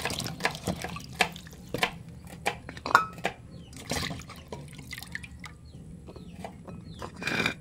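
Dishes are washed at a sink, with irregular water drips and splashes close by, plus light clatter and a few sharper knocks.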